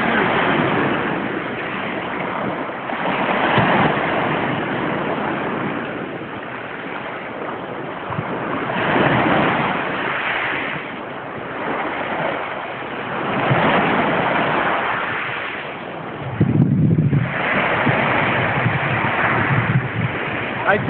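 Cold winter sea surf at Vrachati beach, steady wash of waves with swelling surges every few seconds and some wind buffeting the microphone, close and continuous with no talk.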